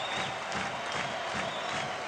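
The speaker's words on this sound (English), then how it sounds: "this capacity crowd is going crazy" Capacity stadium crowd at a baseball game cheering and roaring continuously, a dense wash of voices and applause with slight swells, no commentary over it.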